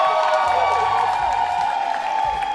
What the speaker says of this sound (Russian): Еще раз аплодисменты ребятам.